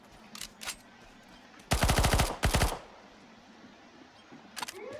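Gunfire in Counter-Strike: Global Offensive: a few scattered single shots, then a loud rapid burst of roughly a dozen rounds lasting about a second, followed by quieter sporadic shots.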